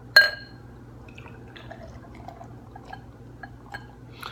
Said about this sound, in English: Let's give it an aggressive pour.